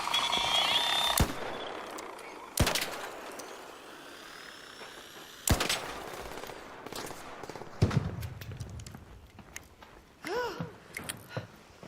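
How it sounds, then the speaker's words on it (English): Several sharp, loud gunshots crack out in the shooter game ARC Raiders, spaced bursts followed by a cluster of quicker shots and mechanical clatter near the end, with no talking. "Is there a guy seriously shooting at me right now?"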